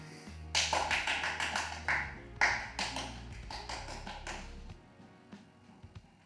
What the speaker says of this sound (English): You're not helping by clapping.